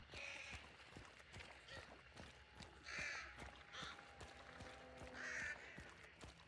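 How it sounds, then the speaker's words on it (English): Crows cawing in the video game Hunt: Showdown, several harsh caws in separate bursts over a few seconds, quiet and set against faint footsteps and scattered clicks. "Check out the crow sounds that I made."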